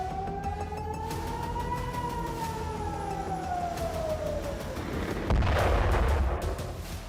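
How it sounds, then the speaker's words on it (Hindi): Air raid siren over Tel Aviv during a missile attack, a loud wavering wail rising and falling slowly over a steady rumble, with a burst of heavier low booming noise near the end. "सायरन बजने लगी"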